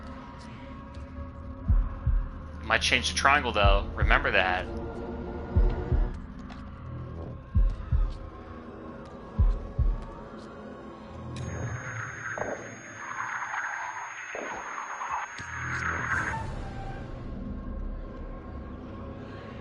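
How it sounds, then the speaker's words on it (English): Heartbeat effect in the video game House of Ashes, low dull thumps pulsing beneath a droning hum, with a person talking over parts of it. "Oh, heartbeat."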